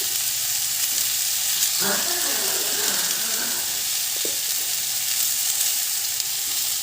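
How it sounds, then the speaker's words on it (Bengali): Cumin powder frying in a pan, a loud continuous sizzle and hiss that stays steady throughout, with brief clinks and stirring scrapes and faint voice-like sounds in the background. "জিরের গুঁড়ো ভেজে নেবো"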